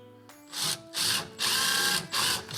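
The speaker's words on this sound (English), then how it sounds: "it's kind of nice to go ahead and pilot a hole, which is what I'm doing here, into the cleat itself." A power drill pilots a hole into a wooden closet cleat fixed over a wall stud, running in four loud, close bursts separated by brief pauses.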